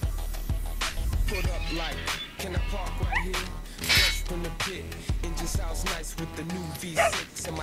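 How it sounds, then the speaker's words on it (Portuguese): Dog barking and whimpering in the video game Resident Evil 4, sharp yips and whines recurring through a busy game soundtrack with music and effects, someone talking over parts of it. "Vamos ajudar o cachorrinho aqui"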